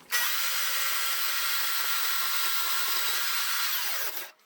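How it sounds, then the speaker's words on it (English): A bandsaw cuts through a piece of aluminum for a welding cart bottle bracket, giving one steady, loud, high-pitched whine that starts abruptly and runs for several seconds before stopping. "This will be a bandsaw cut."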